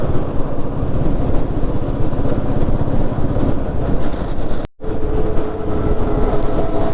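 A group of motorcycles, one of them a BMW, rides on a morning breakfast run, a loud continuous engine drone and wind rush with one brief dropout partway through, and no talking.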